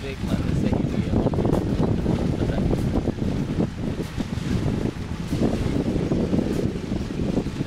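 A boat moving across Vembanad Lake in the Alleppey backwaters of Kerala, a steady broadband engine and water rumble with wind buffeting the microphone throughout, heard up close under continuous talk.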